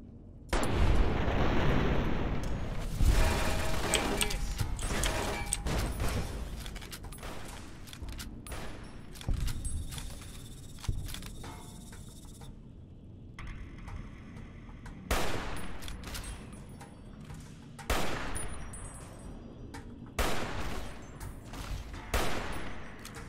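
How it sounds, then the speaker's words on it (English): Sniper rifle fire in Fallout: New Vegas amid a firefight, loud sharp reports and bursts of gunfire with echoing tails, several separate shots spaced apart in the later part. "This is the time to bring out the sniper rifle."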